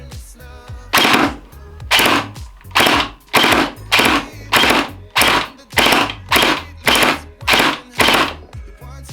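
Bursts of full-auto fire from an LDT HK416D gel blaster shooting heavy gels, about ten loud, evenly spaced rapid strings with short pauses between them, close to the listener and with no talking.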